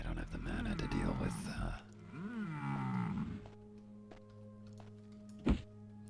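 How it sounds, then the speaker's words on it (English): A giant from the video game The Elder Scrolls: Daggerfall lets out a deep, swelling roar of pain, loud and close, after a stretch of other game sounds, with a sharp thud near the end. "The giant roars in pain."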